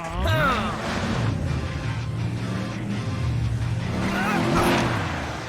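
Cartoon Super Truck racing off in a chase, its engine revving and its tyres squealing with rising and falling whines under a steady motor roar.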